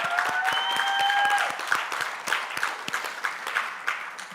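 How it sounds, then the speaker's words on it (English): Audience applause at an annual conference session, dense clapping that fades gradually, with a few voices calling out near the start. "Ladies and gentlemen, a round of applause for our conversation."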